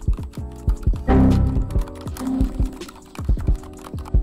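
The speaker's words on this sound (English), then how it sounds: "I hear clicking." Rapid keyboard typing and mouse clicks during gaming, close and irregular, with a brief louder burst of activity partway through.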